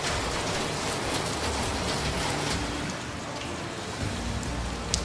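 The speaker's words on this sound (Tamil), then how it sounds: "இப்போ மழை பெய்யுது, நீங்கள் வெளியில் எட்டி பார்க்குறீங்க" Steady, even rain pours down as a dense, continuous hiss, fairly close and uniform, with no voices over it.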